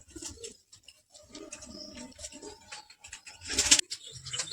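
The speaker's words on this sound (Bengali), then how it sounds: "পায়রা দুটো ছেড়ে শখ করাচ্ছি দেখুন কত সুন্দর দেখতে পায়রা দুটোকে" Kalshira chotial pigeons in a loft coo softly in repeated low, throaty phrases, faint and close, with a brief louder burst near the end.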